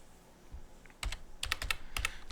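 Keystrokes on a computer keyboard while setting up a Linux Mint 18.3 system, coming in short clusters of crisp clicks after a near-silent start, close and fairly quiet with no talking.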